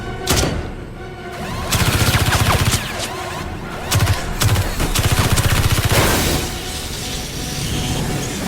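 Rifle fire rings out in a rapid volley of loud, close shots, several sharp cracks overlapping with echoing booms over about eight seconds, with no talking.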